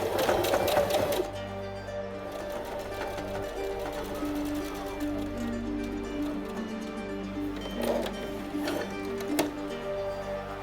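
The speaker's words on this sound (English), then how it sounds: "I've just stitched the lace" A sewing machine stitches lace onto a dress with a rapid mechanical clatter and ticking, running steadily at close range with a few louder bursts of stitching.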